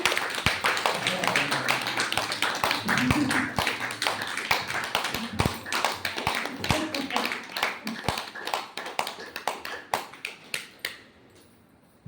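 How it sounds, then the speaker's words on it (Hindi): A group claps hands in a loose, uneven series of sharp, close claps over several seconds, with voices talking underneath, before the claps thin out and fade. "ताली बजा दो"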